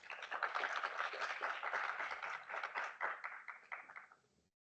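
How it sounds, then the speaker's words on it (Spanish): Conference audience clapping at an international quality event in Ecuador, a moderate burst of steady applause from a mid-sized room that tapers off and stops after about four seconds. "Un fuerte aplauso, por favor."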